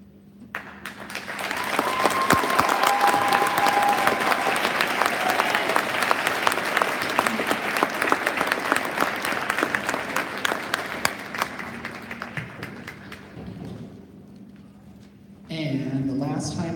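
Audience applause at a school's spring band concert swells quickly into a loud, sustained roar of many clapping hands, then thins and fades out near the end, when a voice speaks.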